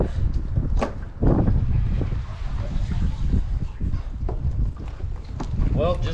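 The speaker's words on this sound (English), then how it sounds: "That wind is just something else." Strong wind buffets a fishing boat out on open water, a loud, constant low roar and rumble with gusting microphone noise that continues throughout, up close.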